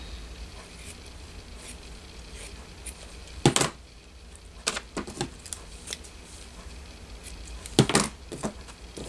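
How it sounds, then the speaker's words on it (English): Scissors cutting blue paper for a file-folder journal, heard as a few sharp, separate snips spread over a quiet background, two of them louder and close. "I'm going to cut this blue."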